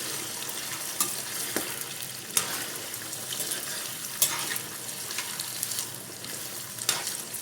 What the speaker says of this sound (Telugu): మటన్ ముక్కలు ఇందులో వేసుకొని ఫ్రై చేసుకున్నాం